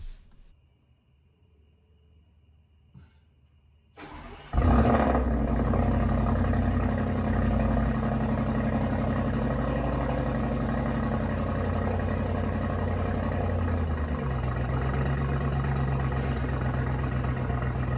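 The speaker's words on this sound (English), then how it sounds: "I have a little bit of ear candy from the Sport Resonating exhaust on the SQ7" Audi SQ7 with a sport resonating exhaust starts after a quiet moment, firing into a loud deep rumbling idle that settles and holds steady, close by.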